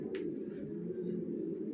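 Racing pigeon squabs with leg tags, long-line birds, coo in a steady low murmur, close by and continuous, with a couple of brief higher chirps near the start.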